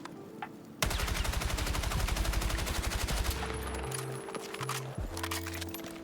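Rapid burst of about thirty shots from a B36 A4 assault rifle in the Battlefield 6 video game, loud and evenly spaced for roughly 2.4 seconds, followed by mechanical reload clicks and clunks.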